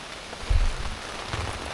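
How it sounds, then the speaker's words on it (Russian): Steady rain falls outdoors at a tent campsite, a continuous broadband patter with a few heavier gusts of drops, moderately close and alone without voices. "Дождик идет."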